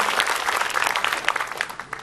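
Audience members at an Islamic talk clap for the speaker, with moderate, fairly close applause that is steady at first and then thins toward the end.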